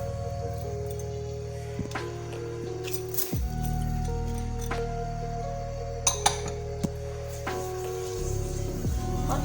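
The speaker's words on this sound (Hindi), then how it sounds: "और अच्छी तरीके से स्टेयर करेंगे।" A spoon stirs sugar into water in a pan on a high flame for gulab jamun syrup, with scraping and a few sharp clinks against the metal over a steady low burner hum, close and without talk.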